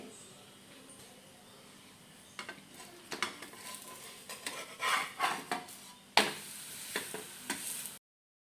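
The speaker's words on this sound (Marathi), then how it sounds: "बघा आपल्याला पराठा दोन्ही बाजूनं असं चांगलं शेकून घ्यायचं आहे" Potato paratha for a fasting-day meal frying in ghee or oil on a pan, with a soft steady sizzle and a series of scraping, stirring clatters of a utensil against the pan that grow busier toward the end.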